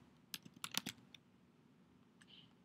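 Quick keystrokes on a computer keyboard as a name is typed into a school staff and student directory, a short cluster of close, crisp clicks followed by a few isolated taps in a quiet room.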